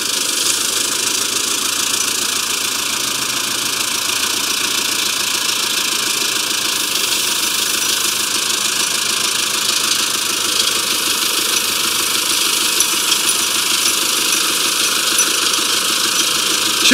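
A loud tractor engine runs steadily with a knocking idle rhythm, close up, without any speech; the tractor carries a front loader.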